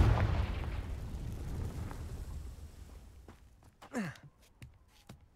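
A Confringo explosion spell cast in the video game Hogwarts Legacy, a fiery blast at the start that rumbles and decays over a few seconds, followed by faint scattered debris ticks and a brief whooshing burst near the end.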